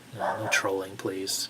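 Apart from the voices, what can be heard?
dog barking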